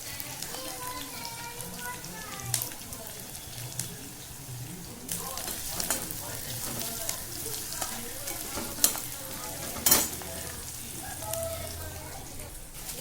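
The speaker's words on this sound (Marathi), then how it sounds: "कांदा फ्राय करून घेते आता आधी बिर्याणीसाठी" Onions frying in a pan for paneer biryani, a soft steady sizzle with occasional stirring scrapes and a couple of sharp utensil clinks, fairly quiet and close.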